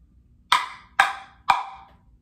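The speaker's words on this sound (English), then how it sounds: "And so it will be played by the acoustiblox." An acoustiblox percussion block is struck three times at an even, unhurried pace, each sharp hollow knock ringing briefly and decaying before the next, close and clear with no other sound around it.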